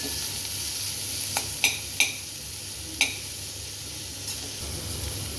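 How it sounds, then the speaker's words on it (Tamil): Onions frying in a pan give a steady hiss, with a few sharp spoon clinks against the metal as they are stirred, close up and without talk. "வெங்காயம் ஒரு நிமிஷம் ஃப்ரை பண்ணிவிட்டு"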